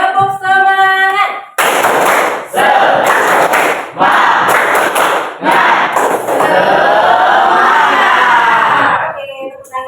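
A class of schoolchildren performs a rhythmic spirit clap in a classroom, loud bursts of group clapping in repeated patterns mixed with shouted chanting voices, after a brief teacher's voice at the start.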